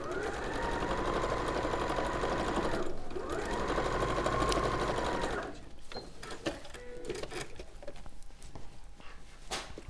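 A sewing machine stitching a quarter-inch quilt seam runs in a loud steady hum, pauses briefly, resumes, then stops, leaving a dog's panting and faint rustles.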